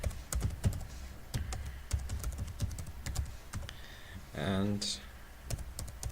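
Fingers type a password on a computer keyboard while signing up to an online marketplace, producing quiet, irregular key clicks beneath someone speaking, with a brief louder click burst near the end.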